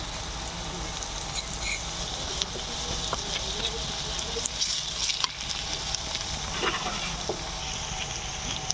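Chopped onion, green chilli, ginger and garlic frying in oil for a momo filling, a soft continuous sizzle with occasional stirring scrapes and light pops, fairly quiet and close.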